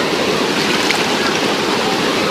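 A waterfall on a family outing roars as a constant broadband rush of falling water, loud and unbroken, with no voices heard.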